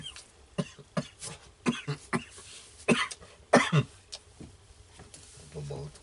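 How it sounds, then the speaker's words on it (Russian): A man coughs several times in short, rough bursts inside a riverside cabin on the Pechora, close and fairly loud, with some faint voices and low background noise between. "Кашель же."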